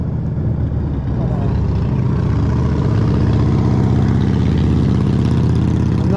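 A Harley motorcycle engine drones low and steady nearby, rising slightly as it pulls alongside, with wind rumble and someone speaking over it.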